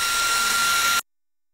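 An electric fan blows a steady, loud broadband whoosh with a faint whine, running alone for about a second before cutting off abruptly to silence.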